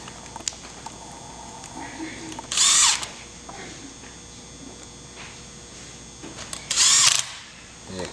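A power drill drives screws back into a wheel assembly in two short, loud whirring bursts separated by quieter handling clicks and rustles.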